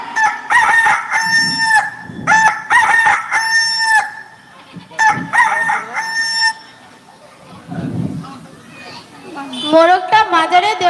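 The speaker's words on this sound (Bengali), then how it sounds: "এর মধ্যে একটি দেশি মোরগ আছে" A native village rooster crows loudly and repeatedly at close range, several full cock-a-doodle-doo calls with clucks between them, while people talk nearby.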